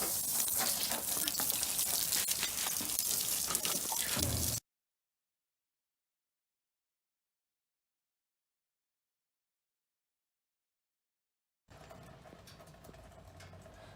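Water from a Wilks TX850 petrol jet washer rushes loudly and steadily into a bucket, cuts off abruptly into silence, then returns for a few seconds, slightly quieter.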